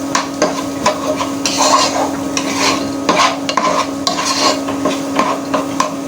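Dal is fried and stirred in a pan, loud rhythmic scraping strokes of a spoon against the metal repeating every second or so over a low sizzle.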